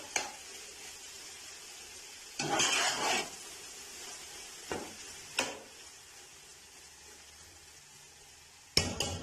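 Khoya stirred and mixed in a pan off the flame, a low gritty hiss with several scraping strokes of the spoon, the longest near the start, heard close with no talk.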